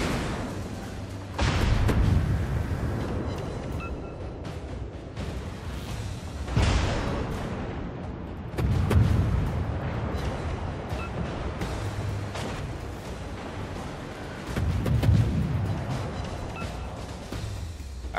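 Warship main guns firing during a naval gunfight in a World of Warships-style game, several heavy booming salvos spaced a few seconds apart, each with a rumbling tail over a steady low engine drone.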